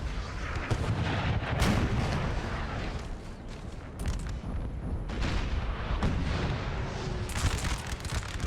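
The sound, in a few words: artillery fire in Napoleon Total War video game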